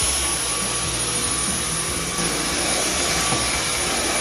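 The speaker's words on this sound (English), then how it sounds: "Get all the cat hair up." A vacuum cleaner runs continuously on a floor picking up cat hair, a loud steady whining roar with a high motor tone, close and unbroken throughout.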